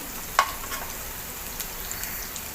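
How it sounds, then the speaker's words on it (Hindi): Onions salted and frying in a pan until golden brown for Punjabi-style rajma masala give a faint, steady sizzle throughout, broken once by a small sharp click. "अच्छी गोल्डन ब्राउन करना है प्याज को"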